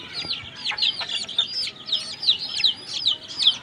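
Young chickens cluck and peep close by in quick, repeated, overlapping calls, with a faint murmur of people talking underneath.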